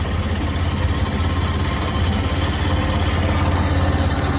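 A motorboat engine running on a river beside floating homes and shops at Tefé in the Amazon, a loud, steady, low droning rumble throughout.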